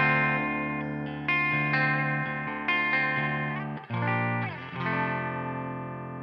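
Epiphone SG Junior electric guitar played through light reverb and delay, ringing distorted chords and sustained notes that shift every second or so, loud and close with echoing tails, no talking.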